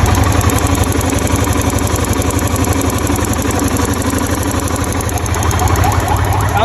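Close up, a Yamaha Fazer V2 motorcycle fitted with a locally made replacement engine idles loudly with a rough, rapid knocking pulse that holds steady and unbroken throughout.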